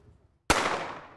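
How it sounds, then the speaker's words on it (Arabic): A single gunshot fired into the air cracks sharply after a brief near-silence, then rolls off in a long, echoing decay. "طب اضرب طلقة كده في الهواء."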